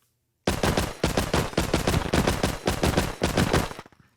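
Kaliska gun from the Scorched Guns 2 mod for Minecraft, fitted with extended magazine, silencer and vertical grip, firing a rapid automatic burst of about four seconds, loud and close with steady repeating shots and no talk.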